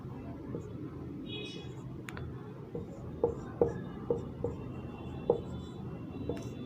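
Writing on a board during a physics lesson, heard as a string of light taps and short scratches that come in quick clusters over a steady background murmur.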